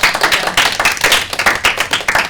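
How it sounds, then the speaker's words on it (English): A workshop audience gives a burst of steady, close clapping from many hands, dense and continuous for a couple of seconds with no talking over it. "give yourself a clap"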